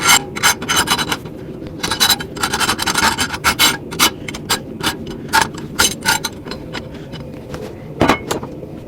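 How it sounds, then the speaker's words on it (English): Metal wire brush scrubbing a hand-forged metal feather, a run of quick, irregular scratchy rasping strokes close up, with a few sharper bursts and no talking. "This is just a metal brush."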